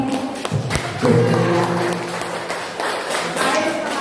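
During a teachers' training session in a room, scattered audience clapping comes in sharp, uneven claps beneath several overlapping voices.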